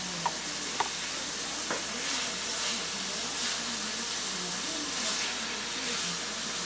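Meat sizzling steadily in a frying pan during a holiday dinner cook, a continuous close hiss and crackle with faint stirring and scraping, no talk over it.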